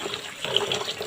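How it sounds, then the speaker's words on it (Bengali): Rice being washed by hand in water for khichuri, a brief close swishing and splashing of water and grains. "চালগুলো ধুয়ে নিতেছি"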